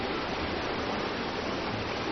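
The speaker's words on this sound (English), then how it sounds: "she earns her name, Nu, meaning rage, for her roaring rapids and the thundering waves" Roaring rapids of the Nu River in southwest China, a dense and unbroken rush of white water filling the clip at steady high volume with no break and no voices.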